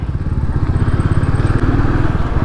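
A Royal Enfield Bullet motorcycle rides through town traffic, its engine loud and close with a fast, even thumping beat and wind rush.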